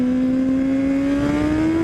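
A Honda CBR1000RR with a full Akrapovic exhaust revs up close, its engine note a loud steady tone that climbs slowly in pitch over a couple of seconds.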